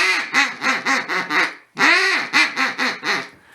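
A handheld duck call imitates ducks with two loud, close runs of raspy quacks, a rapid descending series, a brief pause, then another burst that trails off.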